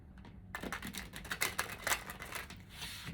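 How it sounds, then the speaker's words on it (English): A tarot card deck being shuffled by hand, with quick papery riffles and flicks in rapid irregular bursts, close and moderately loud, with no talking. "2 more shuffle for Taurus collective, Sun, Moon, Rising, Venus sign."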